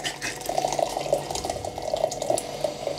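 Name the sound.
hot water poured over a gas cylinder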